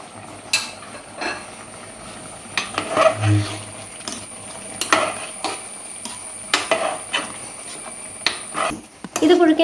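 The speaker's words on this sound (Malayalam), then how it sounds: "നമുക്കതൊന്ന് ഇളക്കി ഇട്ട് കൊടുക്കാമേ." A ladle stirs a homemade Kerala curry with ground coconut paste in a metal pot, giving intermittent scraping and clinking knocks against the pot, close and moderately loud, with some talk in the background.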